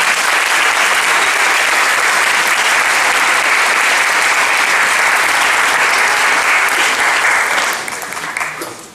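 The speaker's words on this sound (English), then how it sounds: "One more big round of applause for our special guests, Chandra and Kinsey." Sustained, loud audience applause fills a grand opening ceremony, honoring special guests, with dense steady clapping throughout that thins and fades slightly near the end.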